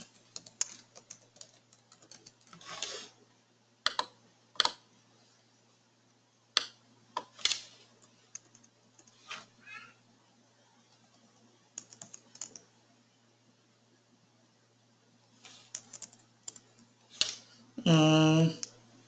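Typing on a computer keyboard while writing code, heard as scattered bursts of key clicks with pauses between them, fairly close and quiet, ending in a short louder clatter.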